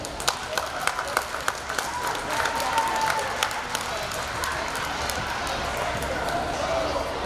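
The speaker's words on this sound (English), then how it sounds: "Please give them a round of applause." Elementary school audience applauding fifth-grade principal's list and honor students at an awards ceremony, a broad steady wash of clapping with scattered sharper claps and crowd noise throughout.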